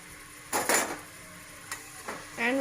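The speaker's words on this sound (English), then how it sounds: "And we'll stir it for some time." Mutton biryani ingredients are stirred in a cooking pot, with a few scraping spoon clanks against the metal and a faint sizzle underneath, close and moderately loud.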